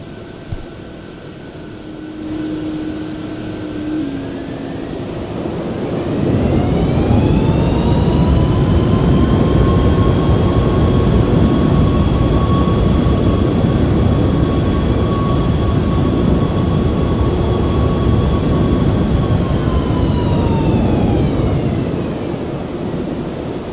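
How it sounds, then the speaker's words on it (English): A PW4000 jet engine on a Boeing 777, as rendered in Microsoft Flight Simulator with the PMDG 777 add-on, heard from behind: a steady, loud, low roaring rush that swells and holds, topped by faint, slowly rising and falling whining tones. "You get the higher pitched noise on the front of these engines, and then obviously a lower pitch roar from the air out the back."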